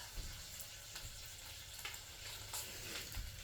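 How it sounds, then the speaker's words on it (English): Bacon sizzles steadily in a pan at a kitchen stove, a faint continuous frying hiss with soft pops scattered through it and no voices. "My bacon is finally getting done. In fact, it's trying to burn."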